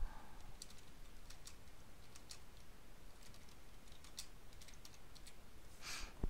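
Quick bursts of typing on a computer keyboard while entering a spreadsheet cell label, light clicks in short irregular runs over a quiet room hum.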